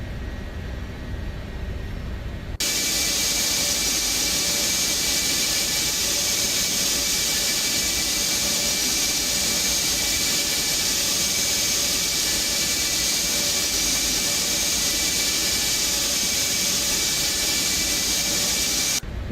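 Gulfstream 550 jet engines run in the X Plane 12 flight simulator, a loud, steady roar with a high whine that kicks in abruptly after a quieter start and holds unchanged.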